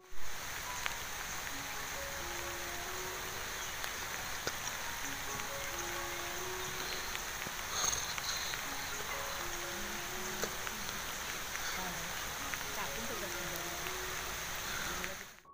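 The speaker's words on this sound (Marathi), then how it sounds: "पाऊस आला पाऊस आला." Cool first monsoon rain falling around a farmhouse, a constant soft even wash of drops that holds for the whole stretch, with faint voices murmuring beneath it.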